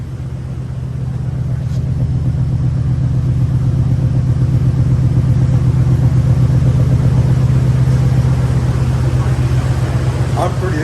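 A 1997 Lincoln Town Car engine idles steadily while warming up, a close, constant low hum with a faint pulsing rhythm that holds evenly throughout.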